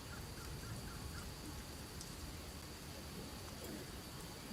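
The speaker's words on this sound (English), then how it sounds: "The rain that we're hearing is perfect because it's cleansing." Rain falling in a steady, dense patter and hiss that fills the whole stretch evenly, with a faint high tone and occasional soft bird-like calls in the background.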